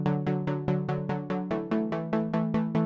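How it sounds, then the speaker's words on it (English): Plucky synth melody over sustained cello-like chords, a steady run of short bright plucked notes with quick decays, even rhythm, loud and alone. "I also have this plucky synth playing over the top as well."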